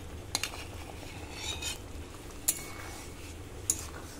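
Fried paneer stirred into a simmering mango sauce, a spoon scraping and stirring softly with a few sharp clinks against the pan, close and fairly quiet, no voices.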